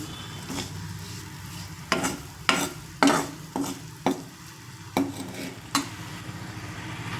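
Sambar powder is stirred into cooked vegetables in a pot, heard as about eight separate scraping spoon strokes over a faint simmer, fairly close and spaced irregularly.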